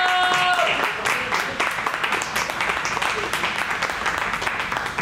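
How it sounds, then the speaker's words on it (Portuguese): An audience at a film-industry talk applauds to welcome the speakers, with a dense, even wash of clapping that holds steady and slowly thins toward the end, along with a brief tonal beep at the start. "Vamos receber com palmas."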